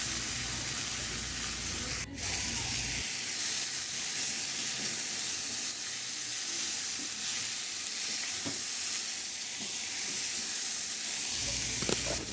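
Chicken seasoned with curry powder and paprika sizzles steadily in a hot pan while being stirred, a continuous close frying hiss with occasional scraping, no voices.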